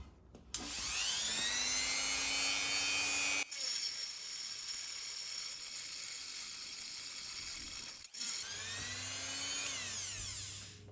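An off-brand rotary multi-tool grinds through thick cast aluminium in two long, loud, steady cutting passes, its high whine rising as it spins up and cutting out abruptly between runs.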